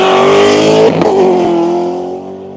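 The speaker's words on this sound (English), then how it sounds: "Violent start by that car." A race car launches hard at a drag race with a loud, high-pitched engine roar that shifts abruptly as it accelerates, then fades slightly as it pulls away.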